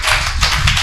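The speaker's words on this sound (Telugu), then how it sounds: "చప్పట్లు కొట్టిన గట్టిగా" A church audience at a Telugu sermon claps loudly, a dense burst of applause that is close and steady for its brief moment.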